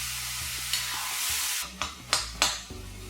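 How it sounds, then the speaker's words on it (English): Tomatoes sautéing in oil in a pan for an Indian chicken curry, giving a steady soft sizzle with a few sharp scraping stirs of a spatula toward the end, close and alone with no talk. "we're going to saute these tomatoes till the oil separates."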